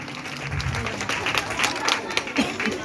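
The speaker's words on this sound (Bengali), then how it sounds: "সবাই জোরে একটি করতালি।" Applause from the audience at a school welcome and student award ceremony, a steady dense patter of many hands clapping together for nearly three seconds, moderately loud and continuous.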